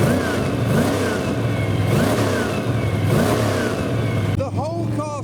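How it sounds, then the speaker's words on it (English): A Ford Capri engine revs repeatedly at a show with crowds, rising and falling in rhythmic swells, loud and close, with people talking over it. "The whole car shakes whenever he revs it."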